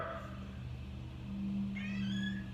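A cat meowing: a faint drawn-out low call followed by a higher wavering meow, close but quiet over a steady background hum, with no talk.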